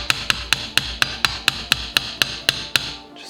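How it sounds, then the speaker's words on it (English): A hammer taps a BMW M3 E36 brake caliper about a dozen times in an even, steady rhythm, each strike sharp and ringing, close by with no talking. "I think it's easier to give it a few taps with a hammer,"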